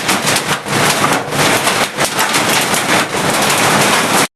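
Hail hammers a tin roof in a loud, unbroken rattling roar, steady and close, cutting off abruptly at the end.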